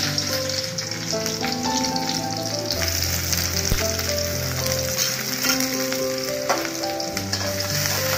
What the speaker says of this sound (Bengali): তাহলে চলো পেঁয়াজগুলোকে আমি আগে ভেজে নিই।